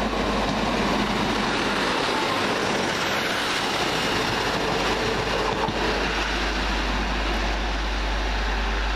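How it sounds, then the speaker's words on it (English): A train running past on the railway line at Kingsknowe, a loud, steady rushing roar with rail clatter that holds close by throughout. "Now coming through 9S70 from London Euston to Birmingham to Edinburgh"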